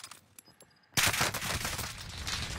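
Gunfire in an online shooter game: a quiet stretch, then a sudden sustained burst of rapid automatic fire and overlapping shots continuing loud to the end.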